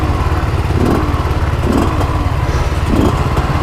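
A Kawasaki Ninja 250 converted into a dirt bike runs steadily while riding through the desert, its loud, close engine drone holding a constant pitch with a few soft thumps from the terrain.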